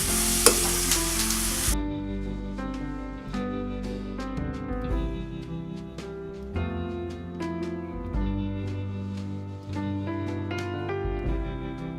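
A spoon stirs papaya stir-fry in a pan, a soft scraping rhythm repeating throughout over a quiet sizzle, close and alone.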